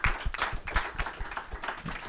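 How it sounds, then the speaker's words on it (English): A panel audience claps in a brief, fairly soft round of applause, with scattered irregular hand claps running for a couple of seconds. "can we give a quick round of applause for this amazing set of panelists?"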